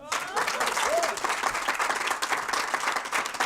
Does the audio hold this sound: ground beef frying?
no